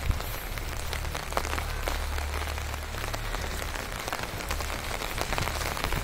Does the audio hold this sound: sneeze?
no